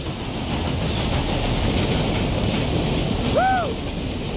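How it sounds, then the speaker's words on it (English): In the video game Red Dead Redemption 2, a train rumbles past in a steady loud roar, with a brief wheel squeal near the end. "For a moment, I thought you were gonna let that train ride right over us."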